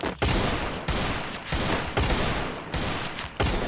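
Gunfire in a shooting video game: loud, close shots in a rapid series of about seven heavy blasts at irregular intervals.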